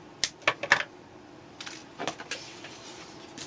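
Nippers cutting a miniature metal fence rung, a few sharp close clicks and snips in quick succession followed by softer metallic handling ticks.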